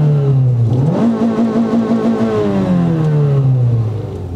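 Renault Clio 172 engine running warm after repair, a close, steady idle that revs up smoothly, holds a higher pitch and slowly settles back down, loud and alone with no talking.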